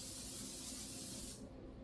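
A continuous hissing spray from an aerosol can of butter spray coating braided pretzels on pans, close and steady, cutting off near the end.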